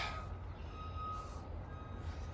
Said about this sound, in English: Sorry about the beeping in the background.